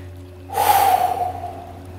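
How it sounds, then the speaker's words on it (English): One deep, audible breath is drawn in and let out close to the microphone during a morning yoga stretch session, standing alone over a low steady hum. "One more breath in. One more breath out."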